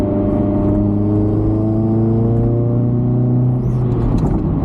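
A 1.6-litre Honda CRX D16A9 engine pulls in third gear from low revs, a loud steady drone whose pitch climbs smoothly and unbroken, heard from inside the car.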